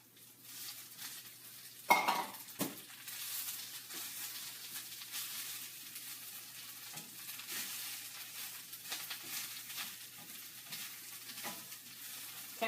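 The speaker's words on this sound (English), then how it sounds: "We're just going to throw this in the pan and we're going to wilt it down." Spinach with garlic wilting in a hot pan gives a soft, steady sizzle with occasional stirring scrapes and a sharp clink of utensil on pan, close and fairly quiet.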